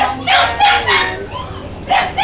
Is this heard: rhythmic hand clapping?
no